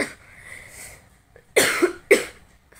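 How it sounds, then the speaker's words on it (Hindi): Two sharp, close winter coughs from a woman in quick succession follow a faint breathy sound, loud against a quiet room. "सर्दियों में खांसी ना हो ऐसे कैसे हो सकता है"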